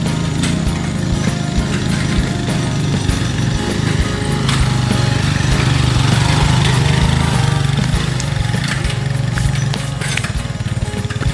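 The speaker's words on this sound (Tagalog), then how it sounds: "Buti malakas yung motor ni Kuya, 175. Kaya kayang-kaya dito umakyat." A 175 cc motorcycle engine climbs a steep uphill trail through a forest, droning loud and steady for the whole stretch with no talk over it.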